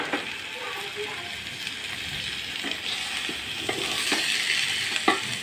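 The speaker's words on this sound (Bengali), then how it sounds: "দিয়ে কিছুক্ষণ আমি নাড়াচাড়া করে নেব" Khesari lentil khichuri stirred in a pot, a continuous bubbling sizzle with light scraping and clinks from the spoon, close and moderately quiet.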